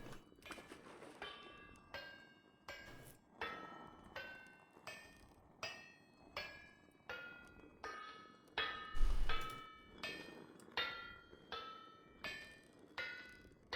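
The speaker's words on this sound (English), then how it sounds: "Let the Helve Hammer do the work." A helve hammer in the Vintage Story video game pounds an iron plate with steady, evenly spaced metallic strikes, about one per second, each ringing briefly before the next blow.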